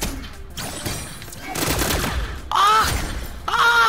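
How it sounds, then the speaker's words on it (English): Pistol gunfire in the video game Brawlhalla: dense, rapid shots layered with swooping, ringing game effects, loud and continuous throughout, with two bright tonal bursts near the end. "the range with these pistols is trash. I'm shooting right at you and I'm missing"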